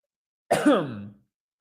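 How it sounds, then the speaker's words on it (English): A single short, rough cough or throat clear, close and isolated, fading out in under a second against silence. "sorry about the coughing"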